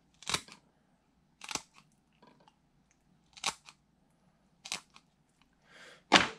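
Several sharp, crunchy snips sound at irregular intervals, scissors cutting through crappie fish bones, close up with quiet gaps between cuts.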